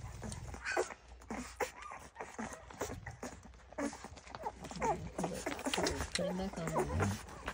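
Puppies whimper and squeal in high, thin cries while a person talks over them at close range.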